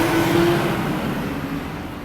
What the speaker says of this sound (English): That's a giant fire truck, but yeah, made a lot of noise, but they're supposed to make noise